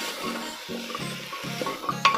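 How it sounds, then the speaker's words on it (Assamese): A jackfruit seed mixture, fried with a little khar (alkali), is stirred in a pan. Regular, repeated scraping strokes sound close by over a soft background sizzle, ending with a few sharper clinks, and no one speaks. "এতিয়া এইখিনি আৰু অকণমান ভালদৰে লৰাই ল'ব।"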